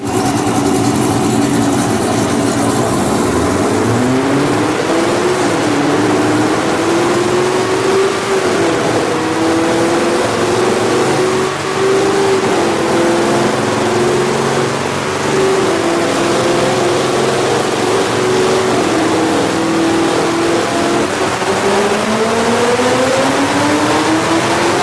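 A tuned race car engine strains on a dyno, loud and close, climbing steadily in pitch through one long sustained pull with a sharp rasp throughout.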